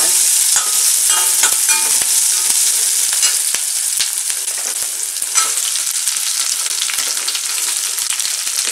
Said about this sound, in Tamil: அதுக்காக நான் இதில் எண்ணெயில் வதக்கிட்டு உருண்டையாக பண்ண